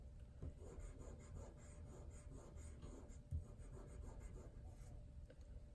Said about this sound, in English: Using that sideways pencil, kind of scribbling.